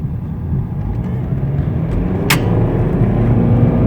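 A BMW 320 with a 2.0 engine rumbling from inside the cabin as the throttle is pressed, a low engine drone building gradually in loudness over a few seconds, with a brief click partway through.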